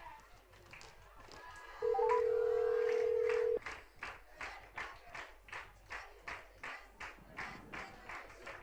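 Telephone dialing: a short run of rising touch-tone beeps, then one steady dial tone lasting about two seconds, followed by a string of even, regular pulses like a ringing line.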